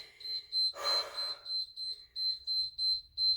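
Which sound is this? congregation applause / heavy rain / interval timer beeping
interval timer beeping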